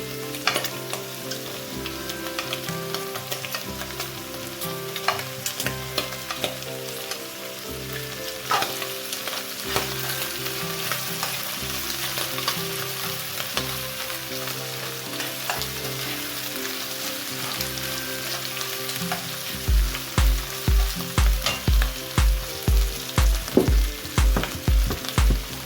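Onions fry in a pan for fried rice with shrimp, egg and chicken, a dense, steady sizzle with occasional stirring clatter, then a run of regular dull knocks near the end, no speech.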